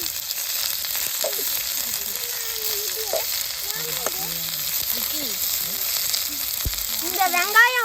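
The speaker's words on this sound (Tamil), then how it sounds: "வெங்காயத்தை அப்படியே மெதுவாக மலை சாரல் மாதிரி சேர்த்துக்கலாங்க" Onions sizzle with mustard seeds in a hot pan while cooking noodles, a steady crackling fry with bright popping spits near the end, and a voice talking softly over it.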